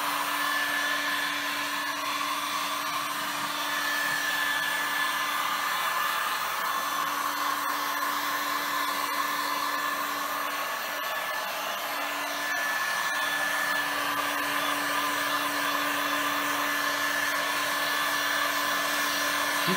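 A powerful hair dryer blows continuously while smoothing the surface of a plasticine lion sculpture, a steady loud whirring hiss with a constant motor hum and no voices.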